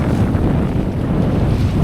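Strong gusty wind batters a sailboat running under its headsail on Norfolk Bay, Tasmania, producing loud, continuous rumbling and buffeting against the microphone with no voices.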